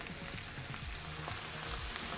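Beans and carrots stirred in a hot pan sizzle and fry steadily, with a few scraping stirs over the constant hiss.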